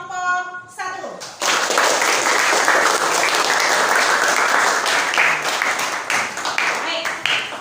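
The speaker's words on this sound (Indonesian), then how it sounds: "Beri aplaus dulu untuk kelompok 1" A classroom audience applauds group 1 after its presentation, with a dense, steady burst of many hands clapping that swells after a short spoken intro and carries on for several seconds with light murmuring.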